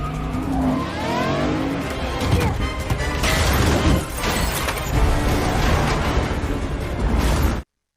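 A car speeds away in a movie chase, fleeing an armored pursuer, its engine roaring loud and continuous with tire squeals and a dense action-score wash over about eight seconds before cutting to silence.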